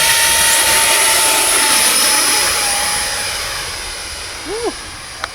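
A 3D printed model Boeing 727 flies on its maiden flight, giving a loud, steady high-pitched electric jet whine that slowly fades as it moves away, with a brief faint voice near the end.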